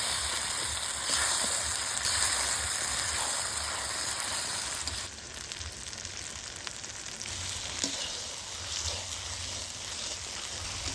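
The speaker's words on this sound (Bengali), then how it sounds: "এবার চুস্তা দেওয়ার পরে কিন্তু খুব ভালোভাবে চুস্তাগুলা কিন্তু কষিয়ে নিব" Mutton chusta sautés in hot spiced oil, a loud, continuous sizzle and fry with stirring scrapes that shift partway through, no talking.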